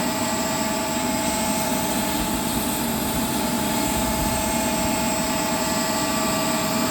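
Steady mechanical drone of a Voith Turbo internal gear pump running under a 200 bar pressure test in a factory, a continuous hum with a faint high whine and no voices.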